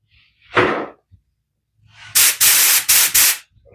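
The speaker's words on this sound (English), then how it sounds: "We're going to spray at about 28 psi." A spray gun set at about 28 psi, with its fan fully open, hisses onto a water slide image transfer. A short puff comes first, then after a pause four loud, close bursts follow in quick succession.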